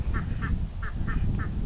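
Ducks hatched by a hen quack in a steady run of five short calls over a low rumbling background.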